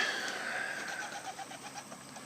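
Portuguese tumbler pigeons cooing softly in a steady run of short, rhythmic pulses, faint and fairly close, with no talking.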